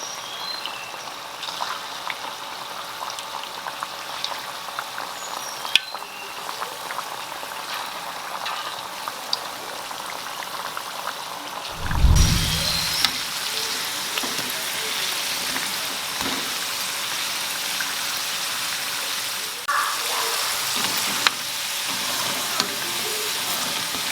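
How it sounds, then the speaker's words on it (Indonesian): Kue getas dough balls deep-fry in hot oil over a medium flame, giving a steady, close sizzle and crackle that runs throughout, with one soft low thump partway through and no speech. "Nah, ini minyaknya sudah panas teman-teman ya. Sekarang kita goreng,"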